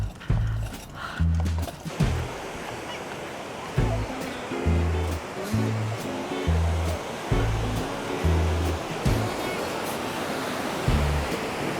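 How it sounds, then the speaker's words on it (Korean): Ocean waves wash onto a sunny California beach in a steady surf roar, with intermittent low thumps and occasional distant voices mixed in. "파도가 굉장히 좋고"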